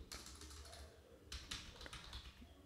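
Quiet typing on a computer keyboard, a few scattered key taps with a couple of sharper clicks, faint and close with a low hum beneath.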